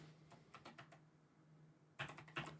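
Slow, sparse keystrokes on a computer keyboard, a few separate clicks followed after a pause by a louder cluster of taps, close and quiet over a faint steady hum.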